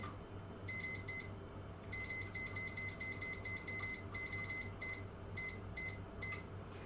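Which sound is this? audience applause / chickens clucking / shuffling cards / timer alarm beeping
timer alarm beeping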